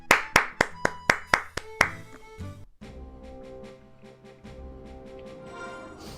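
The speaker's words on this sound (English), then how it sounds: "He clapped for me there as well." A character in the Final Fantasy XI video game claps: about eight quick, crisp hand claps in a steady rhythm, then game music and ambience carry on.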